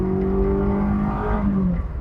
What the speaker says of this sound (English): it's got this wonderful bark to it